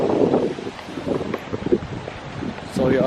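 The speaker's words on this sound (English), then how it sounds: "The wind is crazy," Strong wind gusting outdoors around a house, roaring and buffeting the microphone in uneven surges, with a person talking over it.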